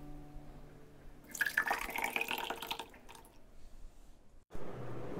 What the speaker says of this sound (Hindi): अब हम पणा को ग्लास में डाल के सर्व करेंगे